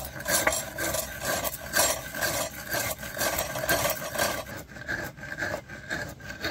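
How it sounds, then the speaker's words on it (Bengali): Sugar is ground by hand on a stone grinding slab (shil), giving a close, rhythmic gritty rubbing with quick repeated strokes back and forth and no talking. "এবারে চিনিটাকে বেটে নেব শিলে।"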